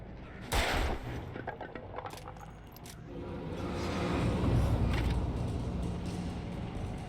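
Gunfire in the Alan Wake video game: a sharp burst of shots near the start, then scattered cracks and mechanical creaks under a swelling rumble.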